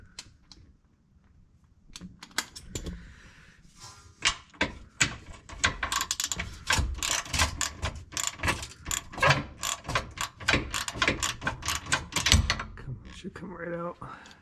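Ratcheting and metallic mechanical clicks from a tool loosening a bolt on a car's rear toe and camber suspension arm, a fast rapid series of close, moderately loud clicks running through most of the stretch.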